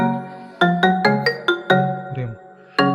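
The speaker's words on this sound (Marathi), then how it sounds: "हा तो फोन वाजता असं वाटतं." A phone rings indoors with a loud, close melodic ringtone of bright repeated tones in quick bursts, pausing briefly and then resuming, with no speech over it.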